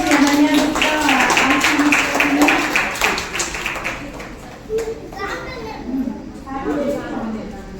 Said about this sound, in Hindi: चलो ताली बजा दो।